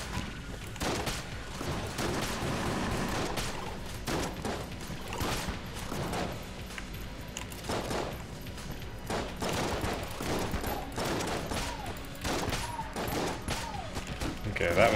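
Dense, continuous bursts of game gunfire from bouncing bullets in Enter the Gungeon, a steady barrage of rapid shots and impacts with game music and effects throughout, loud and busy for the whole stretch.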